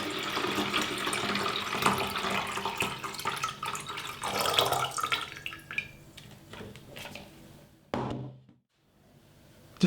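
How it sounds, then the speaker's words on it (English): Cooled boiled water from a kettle pouring steadily into a watering can for an indoor herb pot system, a loud continuous splashing stream that tapers off, stops, then briefly resumes near the end. "You let it cool down and you pour it in the watering can."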